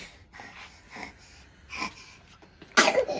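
A single sharp, loud sneeze bursts out near the end, after a few soft breathy snorts and sniffs.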